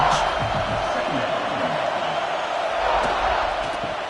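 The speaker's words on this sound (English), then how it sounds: "this crowd is turning it up a notch" Stadium crowd in the college football game NCAA 25, a loud, steady roar of cheering that swells slightly, with faint thuds and shouts mixed in.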